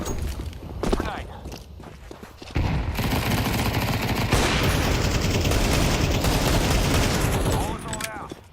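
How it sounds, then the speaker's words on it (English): Rapid automatic gunfire and footsteps in a CS2 match, a dense sustained fusillade of close shots building after a few scattered early shots, with brief voices mixed in. "Grenade."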